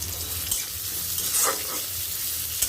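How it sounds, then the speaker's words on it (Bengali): Chopped onion hits a hot pan and fries with a steady, close sizzling hiss, a few stirring scrapes rising briefly midway, with no talking. "দিয়ে দিলাম পেঁয়াজ"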